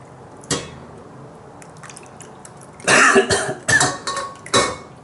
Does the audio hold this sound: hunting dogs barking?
no